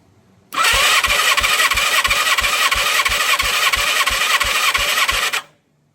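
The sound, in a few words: 1987 Yamaha FZR1000 engine cranking for cylinder 3 compression test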